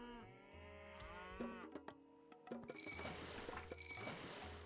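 Cattle mooing in the Age of Mythology video game, several drawn-out low moos over a busy backdrop of game music and clinking effects, moderately loud with no talking.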